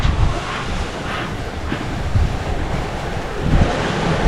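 A strong 15 to 20 knot northerly wind blows at sea near a shipping lane. Continuous loud rushing wind and buffeting mix with wave noise, with no talk.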